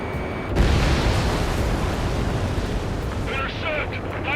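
A missile launched from an F/A-18F jet in Ace Combat 7 erupts with a sudden booming burst, then a sustained rushing roar. Brief voice chatter comes in near the end.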